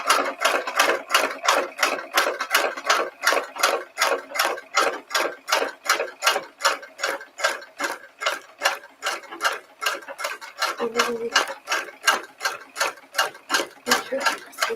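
An embroidery sewing machine stitches steadily, its needle tapping in a fast, even rhythm close to the microphone, with a brief low hum partway through.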